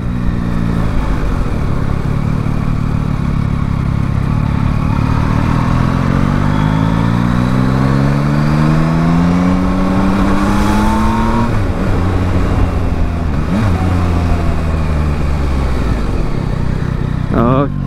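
A Yamaha Tracer 9 GT motorcycle engine roars steadily while riding, its pitch rising and falling through gear changes, loud and close under a voice.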